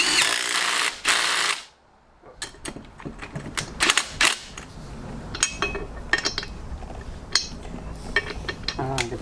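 Power tool driving new bolts into a 4-piston front brake caliper upgrade on a Datsun 280Z, heard as a loud burst near the start followed by short clicking, clanking mechanical bursts of work.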